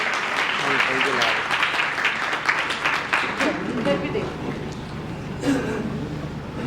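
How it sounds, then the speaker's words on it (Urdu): A church congregation applauds during a Sunday service, a brief burst of clapping that thins as a voice speaks over it and other voices murmur in the background. "تالیاں."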